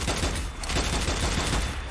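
Continuous rapid gunfire from the video game Strange Brigade, dense and loud, with shots crackling steadily throughout without a break.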